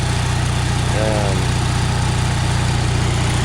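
A small generator engine fitted with an HHO generator runs loudly at a steady idle, a constant droning rumble with a rattling, buzzy edge throughout.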